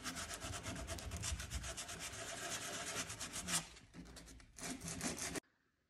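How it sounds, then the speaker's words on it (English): Hand sanding a painted wooden bench with 80-grit sandpaper, a steady, close scratchy rubbing in quick rhythmic strokes that keeps going for several seconds before a few slower passes and then a sudden stop. "I'm just going to start off with an 80 grit sandpaper, and then I'm going to work my way up to a 180."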